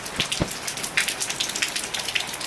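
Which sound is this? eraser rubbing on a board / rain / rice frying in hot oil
rain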